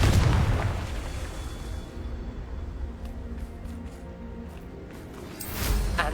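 The Confringo fire spell bursts in Hogwarts Legacy, a loud booming explosion at the start fading into a low rumble, then a second bright burst near the end.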